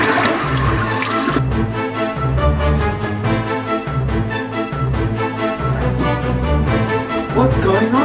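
A toilet flushes in a short burst of rushing water at the very start, quickly giving way to loud music with a steady beat for the rest of the clip.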